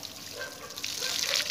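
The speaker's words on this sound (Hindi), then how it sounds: "पेंट करने से पहले हम इसको धो लेंगे ताकि" Water runs and splashes steadily over an object being rinsed clean of dust before painting in a home-and-garden DIY project, a continuous close hiss that grows slightly louder.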